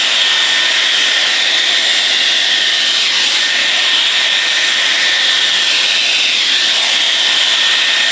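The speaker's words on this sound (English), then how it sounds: "Let's do the first section for the Dyson. Highest heat setting, highest speed, of course." A Dyson Airwrap with a large round brush attachment blow-dries curly hair at its highest heat and speed setting. Its loud, steady rushing hiss runs close and continuous throughout, with no speech.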